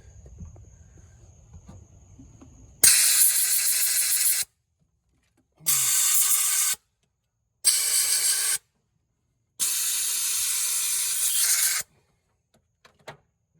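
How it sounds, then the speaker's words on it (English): A ratchet works the spark plugs out of a 1989 Ford Ranger in four bursts of harsh, raspy clicking, each lasting one to two seconds with short silences between them, close and fairly loud. "go ahead and snatch these spark plugs out of here"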